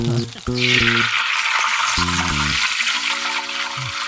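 Tempering (vaghar) sizzles loudly in hot oil in a home kitchen, a steady bright hiss that starts abruptly and runs continuously under people talking.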